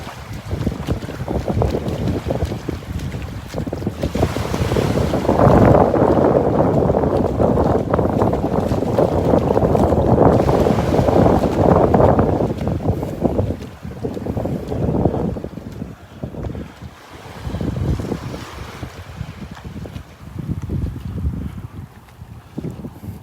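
Breeze and surf at Delnor-Wiggins beach on a breezy morning with the tide going out, heard as a steady wash of wind buffeting and rushing waves that swells in the middle and eases toward the end.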